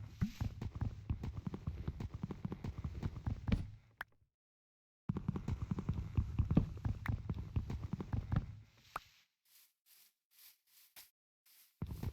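Horse hooves in the Minecraft video game clip-clop in quick, irregular rhythm, faint and steady, stopping for a gap and resuming before fading into a few soft taps.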